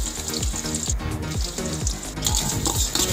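Chopped onions, about nine medium ones, sautéing in ghee for biryani, a steady close sizzle and crackle with rhythmic stirring or scraping sounds running through it.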